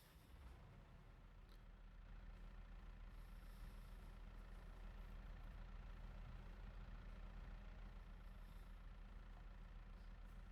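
A tractor engine in Farming Simulator 22 idles while warming up, a steady low mechanical rumble holding even and unbroken throughout, with no talking over it.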